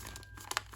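Paper being folded into an origami ox head, a brief close crinkle and crumple of creased paper with two sharp crisp snaps near the end, no voices.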